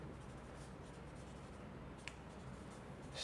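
Chalk or marker strokes on a board during a maths lecture, a faint continuous scratching under low room noise with a brief sharper tap near the end.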